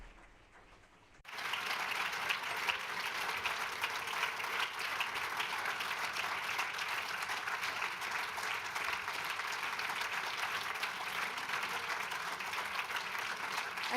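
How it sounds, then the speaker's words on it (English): An audience at a symposium bursts into applause after a brief quiet moment, then sustains dense, even, loud clapping without pause to the end. "A huge round of applause for Karima May."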